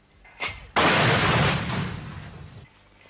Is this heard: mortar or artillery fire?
yes